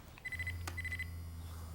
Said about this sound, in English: Since when do you have a beeper?